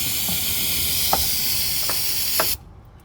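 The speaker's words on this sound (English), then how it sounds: "I'm gonna brake clean bath it a little bit." Brake cleaner sprays in a loud, steady hiss onto the engine of a Lexus LS430 during a front crank seal repair, with a few light clicks, then cuts off abruptly near the end.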